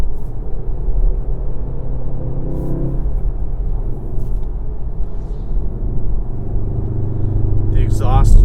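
A 2017 VW Golf R with a manual gearbox, exhaust in normal mode, gives a steady low engine drone from inside the cabin throughout, with a brief higher chirp near the end.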